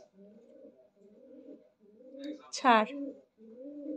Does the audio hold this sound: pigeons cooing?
yes